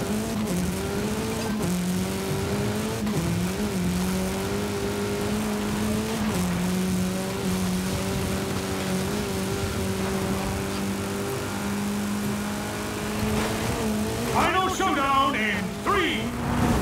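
Ford RS200 rally car in Forza Horizon 5 racing a steady sustained engine drone close up, with shifting pitch, a brief rise near the end, and talk over it.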